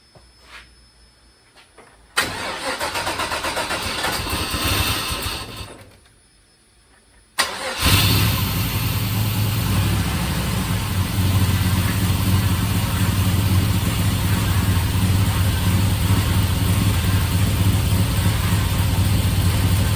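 A 1955 Buick Special fitted with an LS turbo engine and a temporary muffler tailpipe cranks in a short burst, goes quiet, then fires on a second try and settles into a loud, steady idle.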